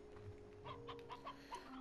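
Chickens in the game Slime Rancher cluck in a short series of soft rhythmic clucks over a low steady background hum, faint and without speech.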